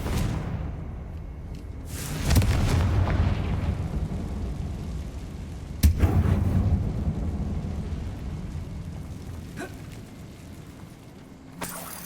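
A Confringo fire spell in Hogwarts Legacy goes off as two heavy rumbling blasts a few seconds apart, each a booming burst that rolls off into a long low decay.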